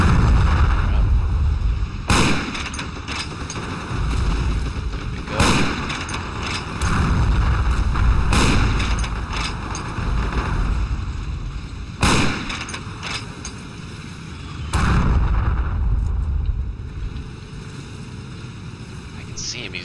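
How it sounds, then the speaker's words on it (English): A World War II style video game battle plays out with repeated booming blasts and gunfire bursts every few seconds over a constant rumbling din, while someone talks quietly over it. "I'm drawing fire here, so I gotta stay low."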